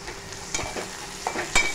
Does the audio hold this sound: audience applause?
no